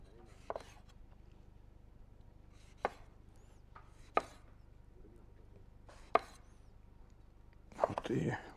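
A knife cuts a lemon into wedges on a board, leaving a handful of separate sharp chops spaced a second or two apart, with a quick flurry of cuts at the end, in a quiet kitchen.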